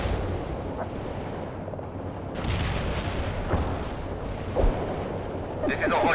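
Battlefield combat in the World in Conflict strategy game: rumbling artillery and scattered gunfire crackle at mid distance, with heavier bursts and thuds breaking through a steady din.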